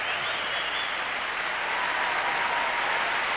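A large crowd at the 1994 Lillehammer Winter Olympics ceremony applauds a figure skater, a dense, continuous wash of clapping that holds steady throughout.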